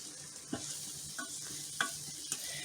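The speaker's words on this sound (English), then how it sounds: "But you stir your salt, pepper, and your flour up." Sausage with salt, pepper and flour browning in an Instant Pot, a steady quiet sizzle with four soft scraping stirs of a utensil spaced about half a second apart, no voices.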